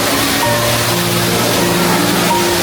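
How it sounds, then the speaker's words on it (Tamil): Continuous loud rushing of water cascading like a waterfall down from a sixth floor in a Malaysian shopping mall, a dense steady roar, with faint tonal hums running underneath. "அப்படியே நீர்வீழ்ச்சி மாதிரி தண்ணி வடிஞ்சு ஓடும்."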